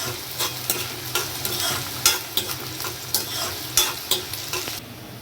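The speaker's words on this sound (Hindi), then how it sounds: "देखिए प्याज को कलर चेंज होने तक ऐसे फ्राई करते रहना है।" Onions fry for chana masala, sizzling steadily in a hot pan with a constant hiss, broken by sharp clacks of a spatula stirring every second or so.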